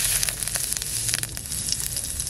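Cumin seeds sizzling in a little hot oil as a tempering for a greens and red field crab dish, giving a steady close hiss and crackle with no voices.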